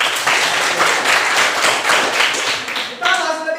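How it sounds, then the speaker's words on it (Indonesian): A classroom of students applauds after a class discussion, steady clapping from many hands for about three seconds before it tapers off, with a brief voice or tone near the end. "berikan aplaus buat kalian semua"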